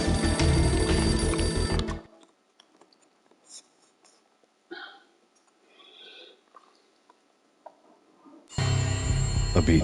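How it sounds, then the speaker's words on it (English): Old, beaten-up telephone ringing in an entrance hall in the video game Max Payne: two loud, harsh bursts of ringing with a quiet stretch of faint clicks and soft sounds between them. "A beaten-up phone in the entrance hall was ringing."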